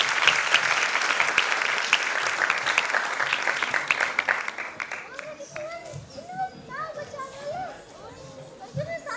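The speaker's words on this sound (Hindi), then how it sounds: "आइए तालियों के साथ स्वागत करते हैं हमारे सुनने वाले दोस्तों का।" An audience at a live Indian classical music programme claps loudly for several seconds, then the applause fades into scattered chatter and children's voices.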